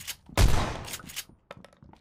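A single loud AK rifle shot in a video game, a sharp close crack with a brief rumbling decay, followed by quieter scattered clicks and thumps.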